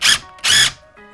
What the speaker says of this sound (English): And we're drilling right into our mahogany.